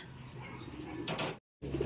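Racing pigeons coo softly in a loft on a hot day, low murmuring calls running steadily with a brief burst of rustling before a short gap of silence.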